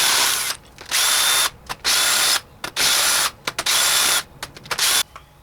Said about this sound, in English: let's get them rocker arms off of there. 8mm socket.